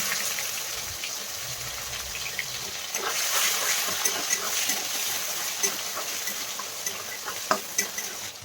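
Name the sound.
stirring chopped onion and tomato frying in oil in a wok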